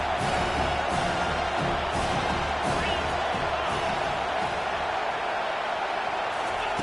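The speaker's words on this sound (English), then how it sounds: "This crowd knows when to bring it." Football stadium crowd at an Arkansas versus Tennessee game, a dense, steady roar of cheering that fills the whole stretch at a constant loud level, with no clear break or single voice standing out.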